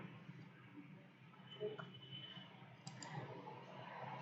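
A computer mouse clicking while working in AutoCAD 3D, a few faint, close, dry clicks scattered over a quiet room background with no talk.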